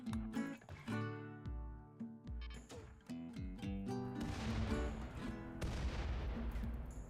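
Mortar rounds firing in a strategy video game, a run of sharp percussive booms at an irregular pace, packed together in the second half over layered music-like tones.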